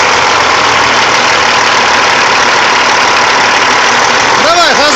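CAT-15 diesel engine running loud and close, a dense steady roar with knocking texture as revs are raised slightly, with people talking briefly over it near the end.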